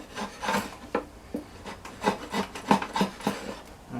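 A draw knife edge scrapes along yew wood for a primitive bow, giving a close, dry rasping sound in a steady series of short back-and-forth strokes, about a dozen in quick rhythm.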